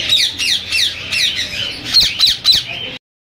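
Creamino ringneck parrots at a Sunday bird market in Bahawalpur give a rapid series of loud, harsh squawks, about eight sharp calls in quick succession close by.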